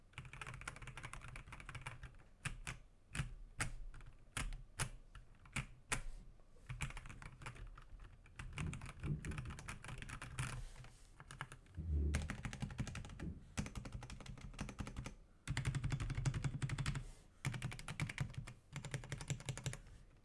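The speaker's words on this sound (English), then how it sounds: "This is a really high quality keyboard." Steady, soft typing on a quiet custom keyboard, rapid muted key clicks with brief pauses and a few heavier thumps, close up with no talking.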